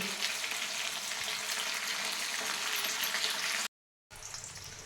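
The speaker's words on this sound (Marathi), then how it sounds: "आता मी गॅसची फ्लेम स्लो करणार आहे आणि 10 मिनिटे हे छान कडवून घेणार आहे." Herbal hair oil simmers in a pan over a low gas flame, giving a steady, even sizzling hiss that runs without a break before stopping abruptly and then resuming.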